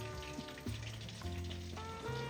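A tablespoon of butter melting in a pan gives a steady, soft crackling sizzle that carries on throughout, heard beneath tonal background music.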